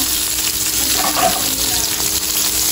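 Pork caldereta ingredients sizzling in a frying pan, a loud, steady, close frying hiss with faint stirring underneath and no talk.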